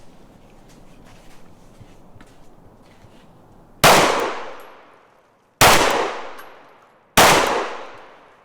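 Three sharp, loud pistol shots from a SIG Sauer P365 Fuse fired at an outdoor range at 15 yards, each crack followed by a ringing decay, spaced about a second and a half apart after a stretch of low background noise.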